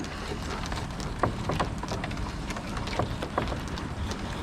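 Steady rain falls outdoors during fish cleaning, a dense broadband patter with scattered sharper drops and soft wind buffeting, fairly close and continuous throughout.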